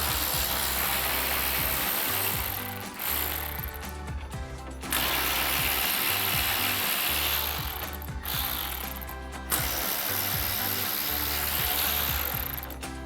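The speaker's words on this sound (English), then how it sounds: "Using our T25 Torx bit." Ratchet driving a T25 Torx bit to remove grille screws on a 2009-2014 Ford F-150, a loud, steady mechanical clicking and whirring that runs nearly continuously, broken by a few short pauses.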